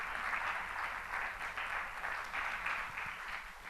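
A church congregation applauds steadily in a sustained, even burst of clapping from many hands, with no break across the whole stretch.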